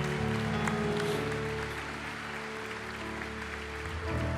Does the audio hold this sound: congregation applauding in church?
yes